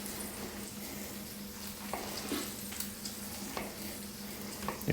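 Mushrooms and peppers frying in a pan for a steak dinner give a steady low sizzle with a faint hum beneath, broken by a few soft stirring scrapes and clicks.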